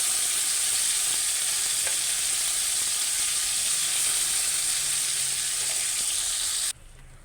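Ridge gourd peel chutney is added to a sizzling tempering of mustard seeds, chana dal, urad dal and garlic in oil. It gives a loud, steady frying hiss that cuts off abruptly near the end.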